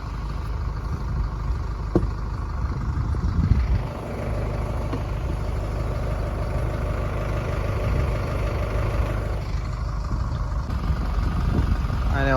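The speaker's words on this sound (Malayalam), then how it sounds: "വള്ളം ഇറക്കാനായിട്ട് വണ്ടി വന്നിട്ടുണ്ട് അപ്പോൾ വണ്ടി കൊണ്ട് തള്ളയാണ് ചെയ്യുന്നത്" A vehicle pushes a fishing boat into the sea on the Tamil Nadu coast, its engine rumbling steadily and loudly at idle-like revs throughout, with a few knocks and bumps.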